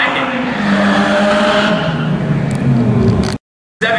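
Honda Civic Si with a 2.0-liter engine making a drag racing run at a dragstrip, a loud sustained engine roar with shifting harmonic tones that cuts off abruptly near the end.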